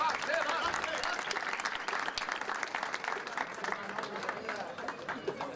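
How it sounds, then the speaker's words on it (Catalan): Audience applause greets the world premiere of a new caramella song, steady dense clapping from a crowd that holds evenly throughout. "Un aplaudiment"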